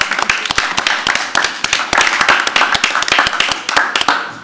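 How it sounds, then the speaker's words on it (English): A small group at a planning and zoning meeting claps by hand, the individual claps distinct and uneven, a sparse, close patter with little else around it. "can we clap or something?"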